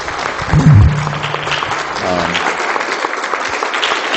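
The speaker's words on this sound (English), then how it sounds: "I'll give him a round of applause to Dr. Guinness" An audience applauds a visiting doctor at the end of a talk, a steady wash of clapping that holds for several seconds with a brief low thump near the start.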